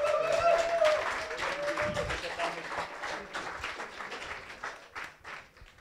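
Applause and cheering from an audience at a net-politics evening event, a burst of clapping that starts fairly strong and gradually fades over several seconds.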